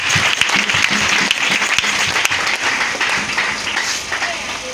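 A church congregation at a Christmas service applauds loudly and continuously, a dense, sustained patter of many hands clapping close by, slowly easing off toward the end with voices mixed in.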